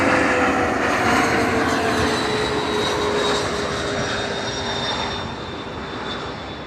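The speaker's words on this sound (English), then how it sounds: "Just got a shot of a jet." Jet aircraft passing overhead, a loud continuous roaring rumble with a whining tone that slowly fades as it moves away, no talk.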